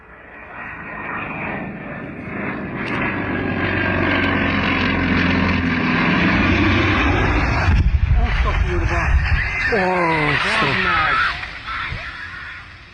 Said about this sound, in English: a North American T-28 Trojan crashed during a display at the Börgönd Airshow near Székesfehérvár outside Budapest